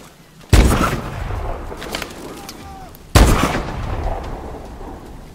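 Two heavy gunshot blasts from a Call of Duty Advanced Warfare battle, loud booming reports spaced about two and a half seconds apart, each followed by rumbling echo and background combat noise.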